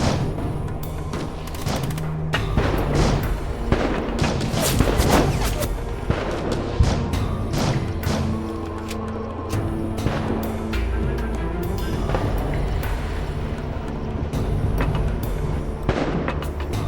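Gunfire in the war video game Heavy Fire: Afghanistan: rapid volleys of shots and heavy booms crowd together nonstop and loud, with no speech over them.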